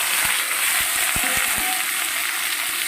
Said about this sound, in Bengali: এর সঙ্গে ভেন্ডিগুলো একটু হালকা করে ভেজে নেব বন্ধুরা